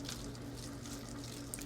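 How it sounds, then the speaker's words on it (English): Water poured into an empty bottle, a soft steady trickle of liquid running throughout, quiet and close with no voices. "I'll just take some water and we'll pour some water into the empty one"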